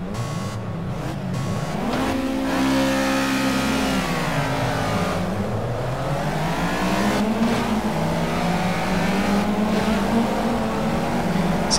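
Race car in Project CARS, engine roaring close and loud, pitch sweeping up through gears, dropping on a downshift, then climbing again, continuous with no talk.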